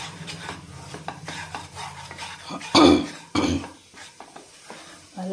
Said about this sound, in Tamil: நல்லா கிண்டி விடணும். நல்லா வறுக்கணும்.